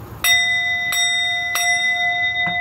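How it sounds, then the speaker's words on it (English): A bright notification bell sound effect, struck four times in quick succession, each hit leaving a sustained, shimmering metallic ring that carries into the next; loud, close and clean, with no voices. "hit that bell,"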